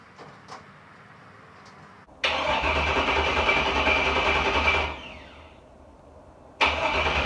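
A pickup truck engine cranks and catches, then runs loud and steady for a few seconds before dropping off; a brief click comes before it and the engine roars up again at the end.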